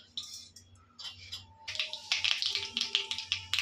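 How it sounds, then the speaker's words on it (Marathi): Mustard seeds sputtering in hot oil while tempering for a safflower greens dish, heard as scattered sharp pops and crackles that start sparse and grow into a dense, rapid popping. "राई टाकत आहोत"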